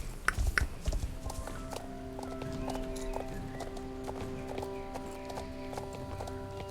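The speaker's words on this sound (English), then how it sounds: "I'm riding I'm riding Elder. You know, the horse that no longer exists in this game." Horse hooves clip-clopping in a video game as a rider travels on horseback, steady rhythmic footfalls near and clear, with a brief whinny-like burst at the start and a sustained musical tone underneath.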